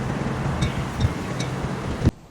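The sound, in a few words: strong wind outdoors at brewery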